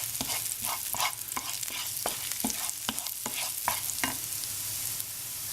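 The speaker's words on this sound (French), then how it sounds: "Faites revenir l'échalote et l'ail dans un peu d'huile d'olive dans une poêle" Shallot, garlic and cumin fry in olive oil in a skillet under a constant sizzle, while a utensil stirs in quick repeated strokes, tapping and scraping the pan roughly every half second.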